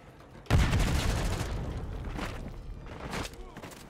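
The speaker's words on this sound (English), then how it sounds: "Random grenade." A grenade explodes in the first-person shooter Black Ops 6, a sudden heavy boom that fades into a long rumbling tail, followed by a few more bursts of gunfire-like cracks.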